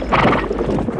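Clattering hooves of a horse with a whinny mixed in, loud and close, in a short burst that continues throughout.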